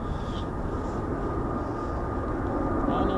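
An Embraer aircraft flying the airfield circuit gives a steady, broad engine roar that stays constant and fairly loud throughout, with faint wind-like hiss on top.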